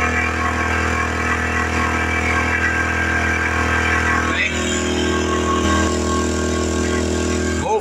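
A Powersmart 1000/1500 inverter generator runs steadily under an 800-watt load at about 2,600 RPM, a loud continuous mechanical engine hum with stable harmonics close by, shifting slightly midway with no talk over it.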